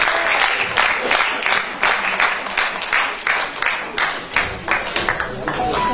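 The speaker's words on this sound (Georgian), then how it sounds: "ხო, აპლოდისმენტები აქვს ამ კაცს." Theatre audience at a jubilee evening in the Griboedov Theatre applauding a man, a loud, full round of clapping with a rhythmic, pulsing quality that carries on steadily throughout.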